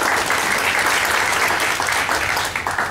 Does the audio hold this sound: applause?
yes